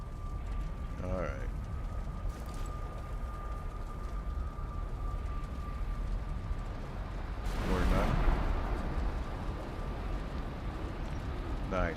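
A thunderstorm at sea in Valheim, heard while sailing across a small stretch of water, gives a steady, fairly faint rush of wind and waves with a brief rumbling surge near the end. Someone talks briefly.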